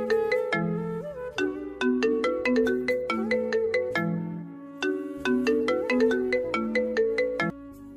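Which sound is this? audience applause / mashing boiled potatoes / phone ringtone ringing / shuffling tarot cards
phone ringtone ringing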